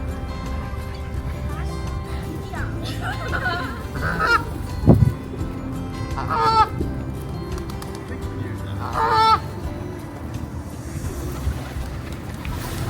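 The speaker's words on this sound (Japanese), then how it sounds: "いろいろ鳥あるね。" Geese honk intermittently at a lake in the English Lake District, a few nasal calls rising over a steady outdoor rumble with boats nearby, while people chat quietly throughout.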